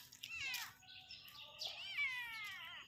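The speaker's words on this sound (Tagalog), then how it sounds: "Pusa." A cat meows several times in a row with rising and falling cries, fairly close and clear over a faint steady hum, at a resort in Costa Palawan.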